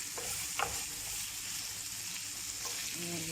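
Ground meat frying in a pan, a steady close sizzle and crackle with occasional stirring scrapes, no talking.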